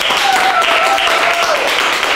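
Audience applause at a concert of songs with piano, sustained, dense clapping from a crowd filling the hall, loud and even throughout, with a faint tonal sound gliding underneath.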